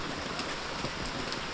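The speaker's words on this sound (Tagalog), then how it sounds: "bigla na namang bumanat ang ulan" Steady rain falls around a boat under construction, a dense, even hiss of drops with no voices over it.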